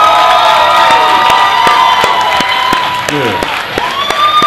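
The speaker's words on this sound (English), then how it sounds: "y'all give a round of applause for Amelia one time real quick" A live comedy show audience claps and cheers loudly and continuously, with whoops and shouts rising over the applause and a voice calling out briefly.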